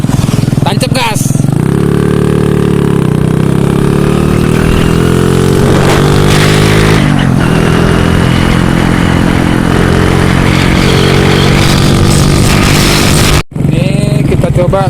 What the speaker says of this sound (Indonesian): Perhatikan baik-baik seberapa kecepatan dari motor jadul Cup 70 ini. Tancap gas.